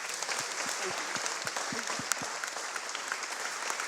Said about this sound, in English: So first of all, give her a big clap